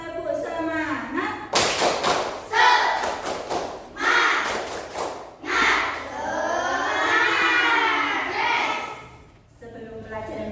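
A group of children in an Islamic religious education class chant and do the rhythmic 'tepuk semangat' spirit clap, with bursts of patterned claps and thumps mixed among their loud voices.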